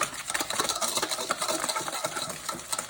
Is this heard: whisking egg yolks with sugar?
yes